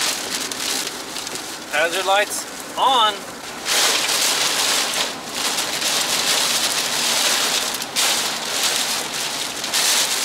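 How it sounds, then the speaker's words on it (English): Steady rain patters and hisses on a car throughout, with a brief spoken phrase and some chirping electronic beeps early on. "looks like the rain's about to start"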